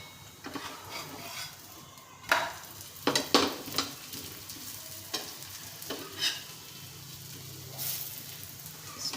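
A stuffed paratha sizzles and crackles steadily on a hot pan after being turned, with several sharper scraping or tapping clicks from a spatula cutting through the continuous frying hiss.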